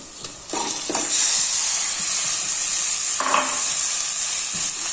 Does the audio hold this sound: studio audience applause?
no